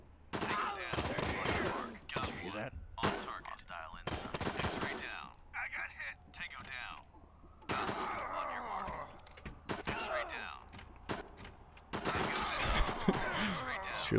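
Automatic weapon volleys in the tactical game Door Kickers, with a firing squad of officers shooting in heavy overlapping bursts across the stretch, loud and dense, and people talking over the gunfire.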